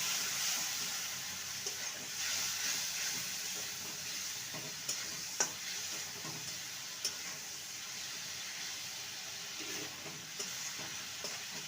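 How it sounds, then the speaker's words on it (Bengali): Spice masala for cauliflower bharta is cooked down in a pan with a splash of water, giving a soft, steady sizzle broken by occasional stirring scrapes and clicks, with no voices. "মশলাটাকে ভালো মতন কষিয়ে নেব সামান্য জল দেব যাতে করে মশলাটা ধরে না যায়"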